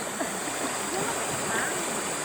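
River water flows and rushes steadily, a broad wash of sound close by, with faint splashes and no clear talk.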